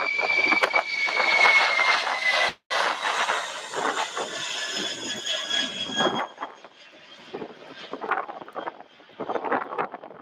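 Airliner at Louisville's SDF airport roaring loudly as it passes, with a broad engine rush and whine that fades over several seconds into a quieter rumble.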